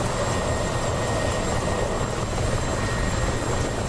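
A military attack helicopter in flight in the combat simulator DCS World, a loud, steady rotor and turbine drone with constant broadband roar filling the whole stretch.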